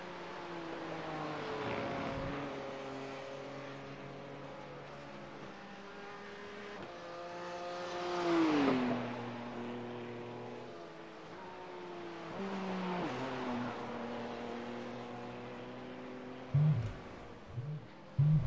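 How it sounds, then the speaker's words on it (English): A Holden Commodore race car engine drones steadily during a six-hour endurance race, rising and falling in pitch as it passes and changes gear, with a loud roar building midway. "You can hear the purr of John Gallen's Commodore"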